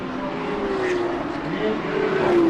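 Two Porsche race cars battling down the back straight at a motorsport festival round, their engines a sustained whining drone that rises in pitch and grows louder toward the end, heard from a distance with a commentator talking over it.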